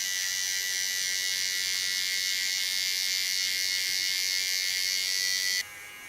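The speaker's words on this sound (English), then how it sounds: "I go in with a small clipper and make a clean parting line" A small electric hair clipper buzzes steadily and close while shaving a clean parting line into ultra-short hair, a constant high whine that drops in pitch near the end, with no speech.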